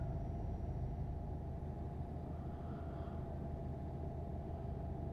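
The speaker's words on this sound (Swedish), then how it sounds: "Någorlunda bra muller är det från motorn också." A low, steady truck engine rumble in Euro Truck Simulator 2 drones on without pause, like a heavy vehicle cruising, with a faint high whine above it and no talking.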